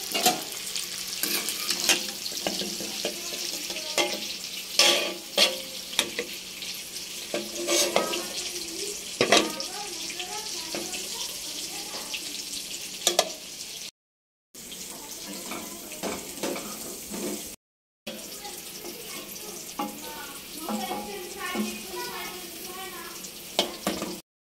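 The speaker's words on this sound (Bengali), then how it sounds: "ডিমের কারির পেঁয়াজটা এখন ভাজা হচ্ছে।" Onion frying in a pan for egg curry, with a steady sizzle and frequent stirring scrapes over water-like background noise, broken by two short silent gaps.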